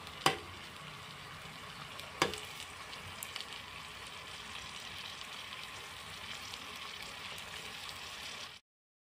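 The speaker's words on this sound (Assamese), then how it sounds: "মই ঘূৰাই ঘূৰাই ভাজি লৈ আছোঁ" Boiled eggs frying in hot oil for an egg chop, turned over repeatedly in the pan, a steady soft sizzle running throughout with a couple of sharp utensil clinks near the start.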